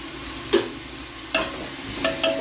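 Mixed vegetables such as potato, field beans, peanuts and cauliflower sautéed in a pan for pavta rice, with a few distinct spatula scrapes spaced apart over a low steady sizzle, close and clear.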